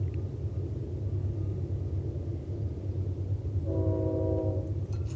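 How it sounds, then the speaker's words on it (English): Steady low rumble of a train throughout, with a horn sounding a chord of steady tones near the end from the lead locomotive about a mile away, distant but clear. "that's the lead of the train, which is like a mile away"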